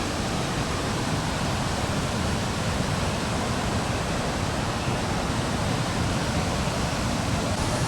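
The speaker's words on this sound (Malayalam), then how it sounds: "അപ്പോൾ വെള്ളച്ചാട്ടം എത്തിയിട്ടുണ്ട്, കാണിച്ചു തരാം" Elavayal waterfall in Wayanad during the monsoon rains gives a loud, unbroken roar of rushing water, dense and steady from start to finish, with no voices.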